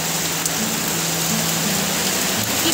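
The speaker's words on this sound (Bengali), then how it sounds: "বাইরে প্রচণ্ড ঝড় বৃষ্টি শুরু হয়ে গেছে" Heavy rain pours outside during a storm, a loud, steady, dense hiss that fills the whole stretch with no pauses and no voices.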